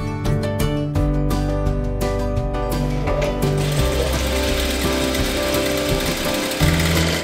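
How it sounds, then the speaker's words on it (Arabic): A sewing machine stitches fabric for a traditional Jordanian doll, running as a continuous dense whir with steady mechanical rhythm throughout, close and fairly loud. "هذه أم حسين عم بتخيط بتقصقص عشان نقدر نخيط اللعبة"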